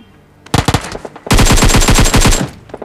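Loud, close bursts of automatic gunfire from a mobile shooter game: a short ragged volley of separate shots, a brief pause, then a long sustained rapid-fire stream that cuts off abruptly, with no talk over it.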